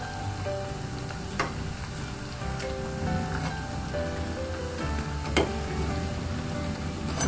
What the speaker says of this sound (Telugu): గోల్డెన్ కలర్ వచ్చేదాకా వేయించుకోవాలండి